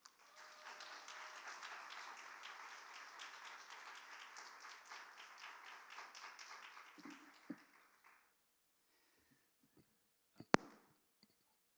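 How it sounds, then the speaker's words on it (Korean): A church congregation at a Sunday chapel service claps in welcome for a visiting missionary, with steady applause lasting about eight seconds before it fades, followed by quiet and a few sharp clicks. "우리 환영의 박수로 맞이했으면 좋겠습니다."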